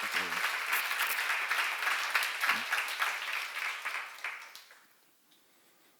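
Applause from a church seminar audience, a dense wash of many hands clapping at moderate volume that fades out over the final second or two.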